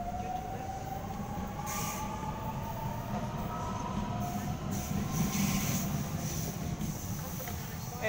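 A Sydney Waratah electric train pulls into Petersham station with a steady, loud rolling rumble and faint high wheel squeals that persist throughout.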